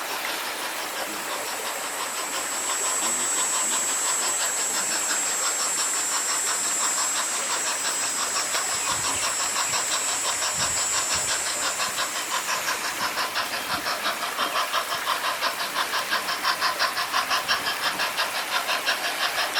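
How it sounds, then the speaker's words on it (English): A small live-steam locomotive chuffs along a garden railroad in a rapid, even rhythm, with a continuous hiss and a high whistle-like tone over the first part, steady and fairly close, with no voices. "Just hearing the steam engine run, the waterfall, the birds."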